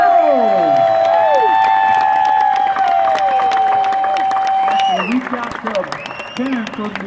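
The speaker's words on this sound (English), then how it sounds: "how about a big round of applause for the Bandit, Mr. Bo Darville" A crowd applauds and cheers for Burt Reynolds at a Bandit Run Q&A at Atlanta Motor Speedway. Loud sustained clapping is mixed with high whistles and shouts, then thins out toward the end.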